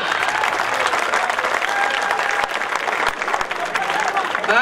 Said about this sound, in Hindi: आप बहुत अच्छी तालियां बजा रहे हैं भाई साहब